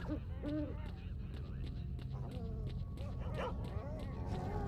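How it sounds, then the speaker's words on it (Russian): Dogs in the video game S.T.A.L.K.E.R. Shadow of Chernobyl yip, bark and whimper in a steady scatter of calls under people talking, over a constant low background rumble. "Собачки всякие."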